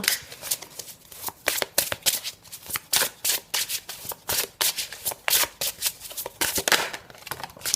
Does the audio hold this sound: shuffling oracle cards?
yes